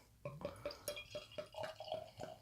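Imperial stout beer pouring and dripping into a glass in quiet, irregular glugs and splashes, close and fairly faint.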